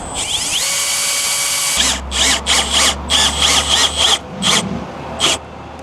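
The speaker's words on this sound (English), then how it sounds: "I'm fastening the corner trim with these special deck screws" A power drill whirs up and then drives deck screws through composite deck corner trim in a series of short, loud bursts, several pulses in a row with brief pauses between.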